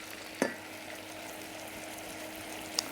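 A spatula stirs sugar as it caramelizes over high heat on a hob, with a soft steady sizzle throughout and two brief scraping clicks, close and alone.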